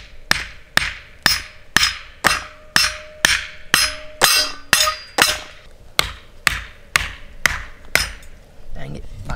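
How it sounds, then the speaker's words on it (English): A hammer pounds a piece of wood down into place with about fifteen sharp, evenly spaced strikes, close and loud, and no talking. "We're gonna get a piece of wood, stick it on top, hammer it down in there."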